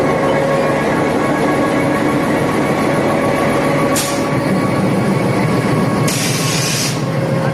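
A train runs at Lovedale railway station in Ooty, making a loud continuous rumble with rhythmic wheel clatter and two short bursts of hiss, with no voices.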